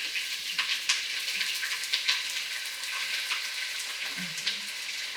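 Red onions and garlic frying in a pan: a steady, moderate crackling sizzle with small pops, close by and without talk.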